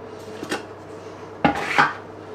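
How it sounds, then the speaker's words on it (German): A metal loaf cake tin clanks against a hard surface while being greased, two short clattering bursts close by in a quiet kitchen. "Kastenform einfetten machen wir."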